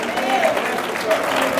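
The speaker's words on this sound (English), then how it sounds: "Let's give him a round of applause" A church congregation applauds a pastor with dense, steady clapping from the crowd, mixed with voices and calls over it.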